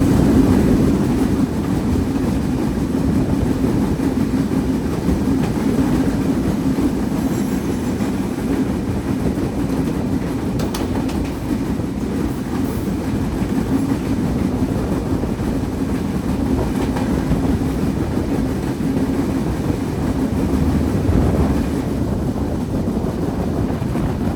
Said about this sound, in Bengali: ট্রেনের গতিটা ভালোই বাড়িয়ে দিয়েছে